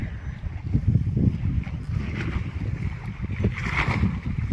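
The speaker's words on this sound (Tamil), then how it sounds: "ஸோ காற்று கொஞ்சம் ஓவராக அடிக்குதுங்க" Strong wind blows across a lake dam, buffeting the microphone with a continuous, loud, low rumble that swells and eases throughout, with no voices.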